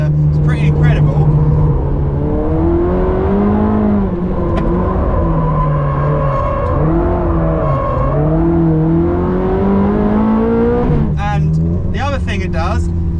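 A rare naturally aspirated Ferrari engine revving hard while driving, its loud rising and falling tones sweeping up and down through the gears, with a voice speaking over much of it and sharp crackles near the end.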